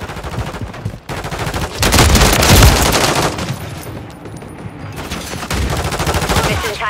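Loud automatic gunfire in Call of Duty Modern Warfare III multiplayer on the Tokyo map, sustained machine-gun bursts up close that swell, ease off, then pick up again.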